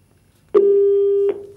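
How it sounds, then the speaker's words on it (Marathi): When a caller on a phone-in show drops off, the line gives one loud, steady electronic tone. It holds for under a second with nothing else around it. "कट झाला फोन कट झाला"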